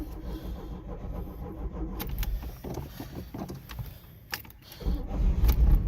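An Oldsmobile Firenza wagon with a weak battery cranks unevenly for a few seconds, then catches and its engine swells into a rough, loud idle.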